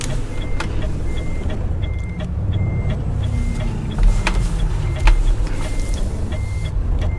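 A truck backing in gives off steady, evenly spaced reversing beeps, loud and close, over a low rumbling engine idle with a few clunks, and nobody talking.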